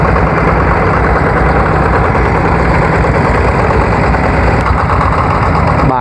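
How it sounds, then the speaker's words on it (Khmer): A KMW motorised sprayer cart's engine runs steadily at a loud, close, throbbing idle with constant vibration and no pause, with no voices over it. "កម្លាំងម៉ាស៊ីនវាគឺខ្លាំង"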